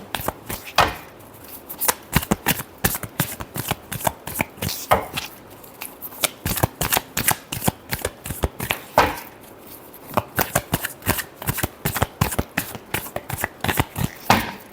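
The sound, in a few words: shuffling tarot cards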